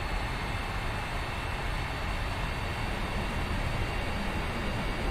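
Antonov aircraft engine roar in a flight simulator game, a steady, loud broadband drone that holds constant throughout with no voices over it.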